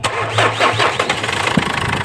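A Ford Ranger with a large fuel-leak fault cranks briefly at close range and catches. Its engine then settles into a steady idle with no talking.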